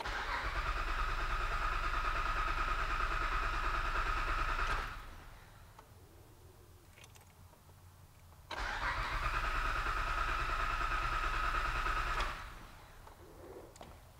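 A 2006 Honda Ridgeline's starter cranks the engine with the ignition fuse pulled after oil pump and timing belt work. Two long, steady whirring bursts of about four to five seconds each are split by a quiet pause, and the engine never fires.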